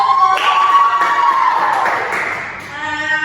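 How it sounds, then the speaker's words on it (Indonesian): Students in a classroom clap together, a dense, steady patter of many hands that fades slightly toward the end, with a bright tone running through the first half. "Bagus, tepuk tangan dulu."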